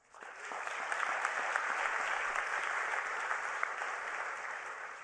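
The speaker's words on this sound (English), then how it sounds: "Let's give Liz Kingo a big hand of applause." An audience at the Hult Prize 2019 event applauds Liz Kingo, a dense, steady round of clapping that swells in quickly and holds evenly for several seconds with no voices over it.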